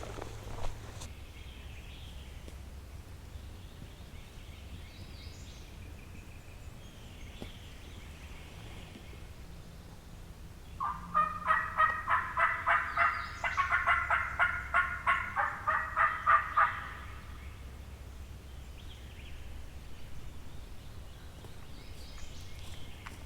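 Wild turkeys gobble on an Arkansas morning, a burst of repeated gobbles rising in the middle distance for several seconds over a quiet outdoor backdrop, with fainter calls before and after.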